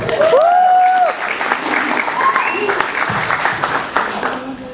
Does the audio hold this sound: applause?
yes